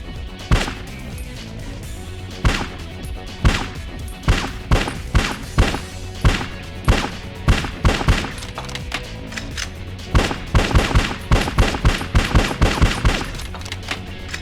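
Gunfire in a video game striking wooden boards over a window: rapid sharp cracks of shots with splintering thunks, in irregular bursts that quicken into a fast volley near the end, loud and close with no talking.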